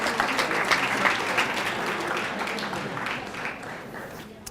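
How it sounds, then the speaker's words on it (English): Applause at a neighborhood honor roll ceremony in St. Paul, a crowd clapping steadily and fairly loudly, fading slightly toward the end. "Huge round of applause."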